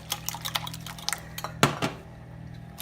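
A utensil clinks and scrapes against a bowl while heavy cream is stirred into a breakfast casserole mixture. A few close, sharp knocks ring out in an irregular rhythm before a quieter pause.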